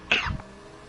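A single short cough from a commentator during an F1 2021 league race broadcast of the Mexican Grand Prix, close to the microphone and abrupt, followed by quiet.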